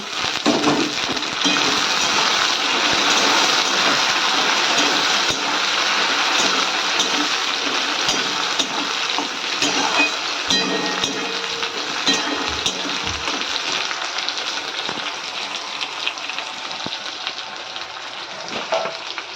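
Tomatoes sizzling in a hot pan over onions fried light red with sugar and spices for a thin goat-meat curry; a steady, loud frying hiss continues throughout with occasional crackles and pops, and no one speaks.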